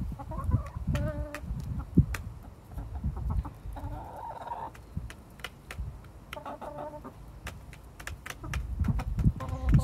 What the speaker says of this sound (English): I like their little pecking noises, though.